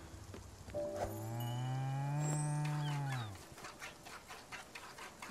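A cow in the video game Spiritfarer gives one long, loud, drawn-out moo that falls in pitch at the end, with a light patter like rain continuing underneath.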